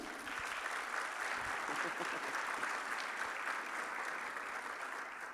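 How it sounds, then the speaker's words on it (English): Audience applause welcoming a speaker at a literature festival session, a sustained, even round of clapping from a sizable crowd, heard at moderate distance throughout. "Please give a round of applause to Imran Mulla."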